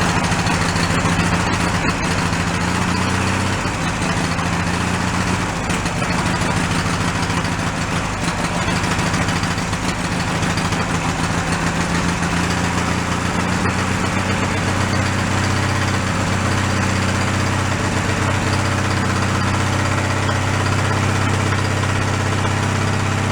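A junked Snapper riding mower engine with a fuel problem runs steadily at idle for a long stretch, a loud, close, continuous low drone with no talking over it.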